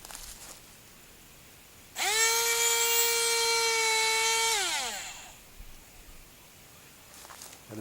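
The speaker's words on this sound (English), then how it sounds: "Insert your drill. You want to make sure it's as straight as possible." A drill bores a hole for a sap flow meter. Its high whine starts abruptly, holds steady for about two and a half seconds, then winds down. The drill is close and loud, with no talk.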